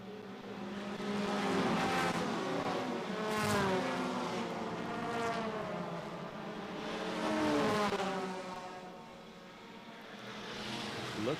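Vintage and modern race cars at Laguna Seca roar past in waves, engines rising and fading with distance as they accelerate and shift, with no talk over the sound.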